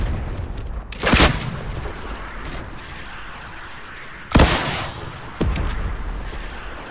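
Two heavy booming blasts from a Halloween zombie video game, one near the start and a second, louder one about three seconds later, each trailing off into a rumbling tail over steady background noise.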